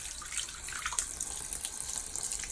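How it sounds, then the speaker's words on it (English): Tap water runs steadily from a faucet into a sink during a face rinse, a continuous close hiss of flowing water with no talking. "let's rinse off my face and see how it feels"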